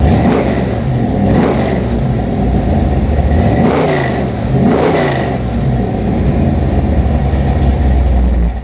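A 1968 Chevrolet Camaro SS V8 rumbles loud and close at a throaty idle, blipped through several sharp revs that rise and fall before settling back to a steady growl.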